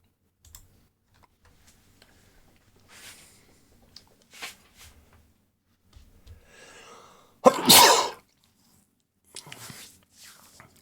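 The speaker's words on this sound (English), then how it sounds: "So it's even the more weird that I have to sneeze." Quiet clicks and small noises lead up to a single loud, sharp sneeze close to the listener, followed by a few faint breathy sounds.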